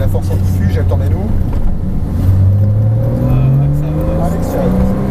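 A Porsche Cayman S accelerates on a race track, its engine note rising steadily in pitch through the gear, loud and close, with the tone climbing again after a brief shift.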